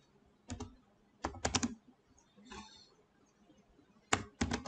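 Typing on a computer keyboard while entering a search for Google material icons: close, crisp keystroke clicks in quick bursts separated by short pauses, with faint room noise between them.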